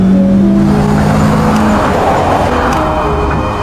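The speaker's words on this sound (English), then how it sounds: "another car appeared behind her, and its speed was getting faster" A car approaches from behind and speeds up, its loud engine and road roar building into a steady, close rush that fills the whole moment.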